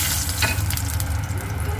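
Whole spices including bay leaf sizzle in hot oil with sugar and chili powder for chicken kosha, a loud steady crackling hiss with a low hum beneath and a brief stirring scrape.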